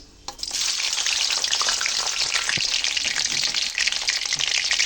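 Garlic and whole panch phoron spices dropped into hot oil for a raw mango pickle, starting with a sharp burst and settling into a loud, steady, crackling sizzle close to the pan.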